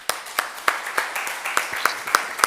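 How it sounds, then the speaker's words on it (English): Audience applause for the speakers at an electromobility technology workshop, a moderate run of sharp hand claps from a modest crowd, fairly close, with light background chatter. "So a round of applause for the speakers."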